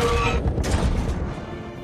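A film bombardment scene fills with a dense burst of gunfire and booming blasts, loud and close, with sharp repeated impacts over a low rumble that fades slightly toward the end.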